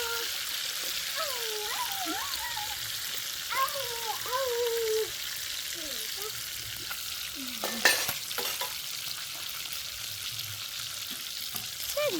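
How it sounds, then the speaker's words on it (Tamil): Food sizzles steadily in a hot pan with occasional stirring scrapes, while voices talk over it in the first half. "இது ஃபர்ஸ்ட் டைம் பொரிக்கிறது"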